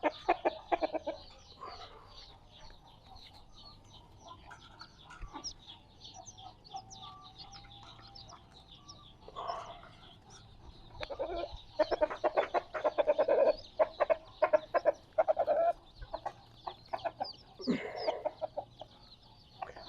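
Chickens in a backyard coop cluck repeatedly, near and moderately loud, with bursts of clucking growing busier toward the end.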